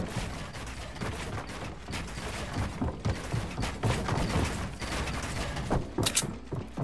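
Dense, continuous video-game gunfire crackles through the whole stretch, rapid bursts overlapping in a loud, busy barrage with no clear pauses.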